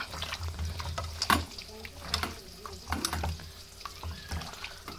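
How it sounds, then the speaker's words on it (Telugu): Ginger and shallots fry in oil and ghee for a chicken curry while being stirred, with scraping, clattering strokes of a utensil breaking over a continuous close sizzle. "బాగా మిక్స్ చేసుకున్నాం కదా బాగా మిక్స్ చేసాం అల్లం చిన్నుల్లిపాయ"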